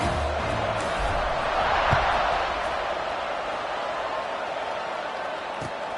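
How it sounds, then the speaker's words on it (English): A football stadium crowd at a Cal vs Georgia Tech game keeps up a loud, steady murmur of cheering and buzz after a scoring drive, a dense wash of noise with no single voice standing out. "this crowd is buzzing after that last score"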